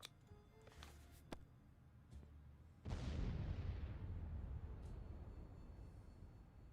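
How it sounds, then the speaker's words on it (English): A damaged abandoned tank blows up in the survival game 60 Seconds: a sudden loud, deep boom that swells into a long rumbling roar and slowly dies away. A few faint thuds and clicks come before it. "Last thing we expected was a giant explosion"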